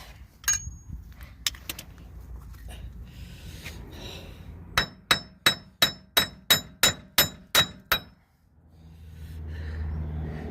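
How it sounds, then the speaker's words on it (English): Metal-on-metal hammer blows ring out against a seized wheel bearing on a Land Rover Discovery 4: a few scattered strikes, then a fast, evenly spaced run of about ten sharp, loud clangs, followed by a low rumble. "I'm just going to hit it with an hammer because my patience is thin right now."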